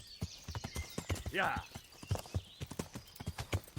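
Rhythmic hoofbeats from a horse in the medieval video game Kingdom Come: Deliverance, close and steady, with a brief whinny partway through and a short spoken remark.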